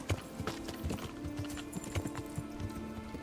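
A horse in the medieval video game Kingdom Come: Deliverance gallops off-road, its hooves thudding in a quick, steady clip-clop rhythm over faint ambient background sound.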